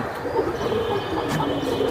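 Pigeons kept for sale, including Giribaz types, coo softly beneath a constant wash of busy background noise, the calls blending into a low continuous hum.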